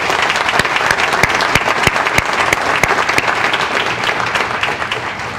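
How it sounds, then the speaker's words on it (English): A big round of applause at a public safety appreciation awards ceremony in Bowie, with individual sharp claps standing out from a steady, loud patter of the crowd. "I'd like to give them a big round of applause right now for that."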